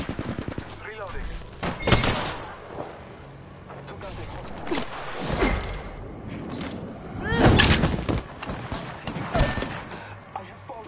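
Gunfire in Apex Legends comes in scattered bursts of sharp shots and rapid volleys, with louder clusters around the second and seventh seconds. Game voice lines and talk run in between.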